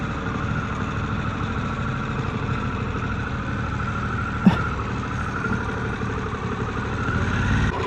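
A motorbike and cars idle in slow Friday afternoon traffic, a steady mid-pitched engine rumble heard close, with one brief sharp click partway through and a slight rise in engine noise at the end.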